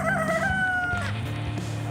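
Chickens close by in a garden food forest give a short burst of crowing and clucking, loud and brief.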